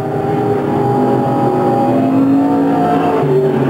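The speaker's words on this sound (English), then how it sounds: "Conrad Baker now with a rather easy ride in for the checkered flag" A race car engine drones steadily on a short-track oval near the checkered flag, a loud continuous roar with shifting engine tones as it rolls toward the finish.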